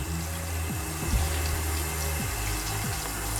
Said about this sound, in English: as you rinse your hands